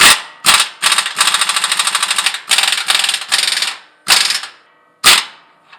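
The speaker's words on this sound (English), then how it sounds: "So we just gonna use a 22 millimeter and then try and loosen it some." Rapid bursts of an impact wrench or ratchet working a strut nut loose with a 22 mm socket on a 3rd generation Toyota Tacoma during a Bilstein 5100 lift install; several loud, close buzzing runs of clicks separated by short pauses, with no talk.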